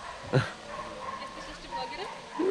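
A dog barks once in the Chernobyl exclusion zone, a short, fairly clear yelp at some distance, while people talk throughout.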